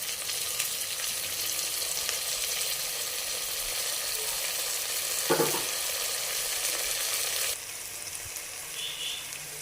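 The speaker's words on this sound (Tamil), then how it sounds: "வெங்காயம் நல்லா வதங்கிச்சு ஃப்ரெண்ட்ஸ். அதனால் நான் ரொம்ப தக்காளி போட்டுக்கிறேன்." Close, steady sizzle of tomatoes frying with well-sautéed onions in a pan for a simple veg biryani, with a brief stirring scrape midway before the hiss drops slightly.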